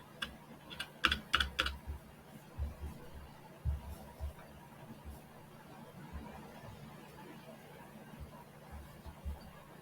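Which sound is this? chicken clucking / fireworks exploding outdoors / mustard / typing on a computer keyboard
typing on a computer keyboard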